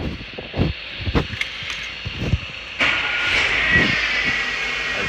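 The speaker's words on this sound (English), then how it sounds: "Now we're just going to start the car." A 2010 Renault Clio 1.1 petrol engine cranks and catches after a few nearby clicks and knocks, then settles into a steady, close, hissy idle.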